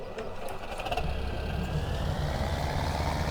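A tractor engine in the Farming Simulator 17 video game, starting up and settling into a steady low rumbling idle with a faint whine above it, continuous and close.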